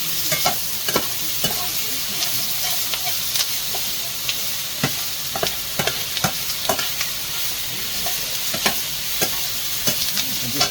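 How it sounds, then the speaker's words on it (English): Onions caramelising on a hot flat top griddle give a loud, steady sizzle and frying hiss, broken by frequent sharp scraping and stirring clicks from a utensil against the metal surface. "I've got to caramelise these onions."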